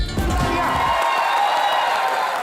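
Studio audience on a comedy chat show erupting into cheering and applause for a singer, a dense, loud crowd roar with whoops that settles into steady clapping.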